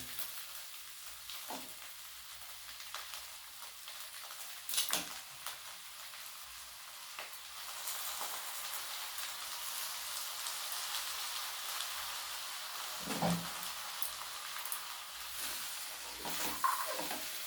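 Rice grains stirred with spices in a frying pan while they fry for soybean pulao, giving a steady soft sizzle with occasional scraping knocks of the spoon, close and moderately quiet.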